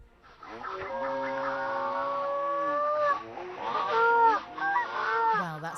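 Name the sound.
seagull call pitched down through a sound box to sound giant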